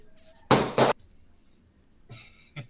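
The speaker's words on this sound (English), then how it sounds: "That was my dog dropping a bone." A dog drops a bone on the floor nearby, giving a loud, sudden double thud, followed by softer knocks a moment later in an otherwise quiet room.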